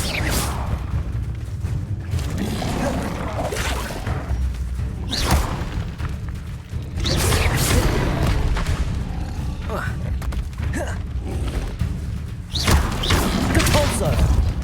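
A fire-blast spell explosion in the Hogwarts Legacy video game, played on Xbox Series S, lands as booming thuds and crashes within a busy combat mix of whooshes and impacts. Spoken incantations are heard alongside.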